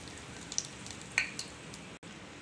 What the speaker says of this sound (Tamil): நான் இப்போ வந்து ஒரு பூவும் பிரிஞ்சிலையும் எடுத்திருக்கேன் எண்ணெயில் நல்லா வதக்கிக்கலாம்